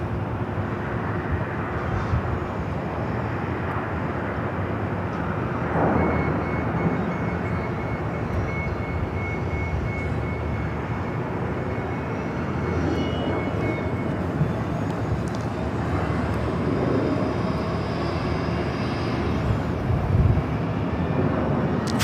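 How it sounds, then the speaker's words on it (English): A Lufthansa Boeing 747 jumbo jet taxis at LAX, heard as a steady, broad engine rumble and whine holding across the whole stretch, fairly loud with outdoor airport background. "Got the Lufthansa Queen heading up here to the north side, flight 457, heading back to Frankfurt."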